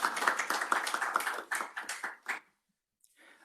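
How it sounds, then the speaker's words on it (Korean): Audience clapping to welcome a newspaper reporter joining a panel discussion at a Seoul academic event, a brisk burst of many hands that thins out and stops after about two and a half seconds, leaving near silence. "박수로서 환영해 주시면 감사합니다."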